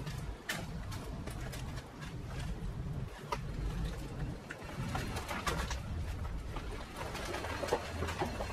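Pigeon or dove cooing close by outdoors, soft repeated coos mixed with clattering and background noise.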